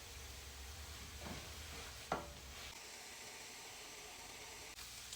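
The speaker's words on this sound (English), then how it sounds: "my favorite part of cooking is sauteing the veggies and the garlic" Vegetables and garlic sauté in a pan with a soft, steady sizzle. A couple of brief stirring scrapes and one sharp clack of a utensil come in the middle, all fairly quiet, with no one talking.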